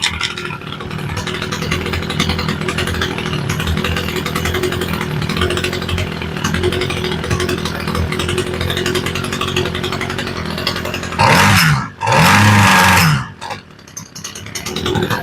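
A small Homelite weedeater two-stroke engine runs steadily at idle during a carburetor adjustment, a loud close buzzing drone that briefly revs up sharply twice near the end before dropping back.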